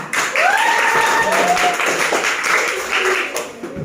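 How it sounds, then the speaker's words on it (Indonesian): A class of schoolchildren claps together in a classroom, a lively burst of applause with children's voices and calls rising over it, fading slightly near the end. "Kasih dulu tepuk tangan."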